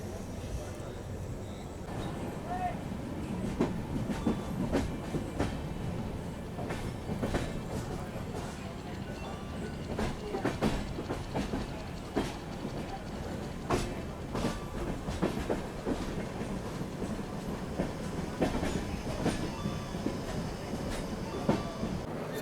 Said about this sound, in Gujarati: અત્યારે આપણી ટ્રેન આવી ગઈ છે ઇગતપુરી રેલવે સ્ટેશન ઉપર